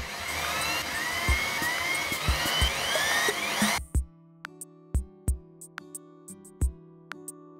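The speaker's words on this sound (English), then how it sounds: "I center punch the holes for the screws and I drill" A high whining power drill boring screw holes for ukulele tuners in wood runs steadily for a few seconds, then stops, followed by a series of sharp knocks and taps in a quiet room.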